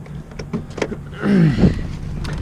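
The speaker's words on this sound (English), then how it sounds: "it does have the capability for like power folding mirrors" A short electric motor whir with a rising and falling pitch, like a car mirror folding, over a low engine hum and faint clicks.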